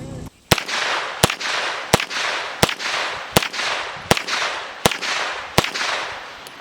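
Eight evenly spaced sharp shots from a PSA AKV 9mm pistol firing Fiocchi 115 grain ammunition, each a loud close crack with a brief echoing tail, at a steady unhurried pace.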